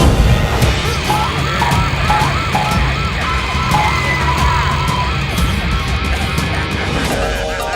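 A cartoon police car siren wails in rising and falling cycles, loud and continuous, over a dense background of traffic-like noise.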